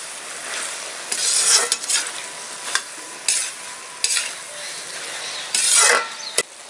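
Bean sabzi with garam masala and coriander powder being stirred in a pan, a sizzling bed broken by repeated scraping strokes of a spoon against the pan, close and fairly loud, no talking.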